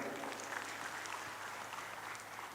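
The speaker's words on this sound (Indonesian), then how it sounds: "tepuk tangan yang meriah" Audience applause at an Islamic school anniversary and graduation celebration after a recitation of the Alfiyyah, a soft, steady wash of clapping heard from a distance, fairly faint and continuous for a couple of seconds.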